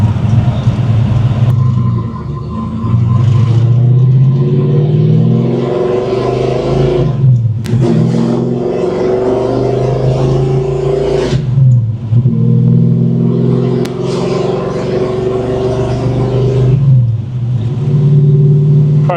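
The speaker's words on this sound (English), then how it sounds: "Car goes through all the gears smooth, drives straight down the road" A 1972 Road Runner muscle car engine revs up and shifts through several gears, the pitch climbing and dropping at each change, loud and close throughout.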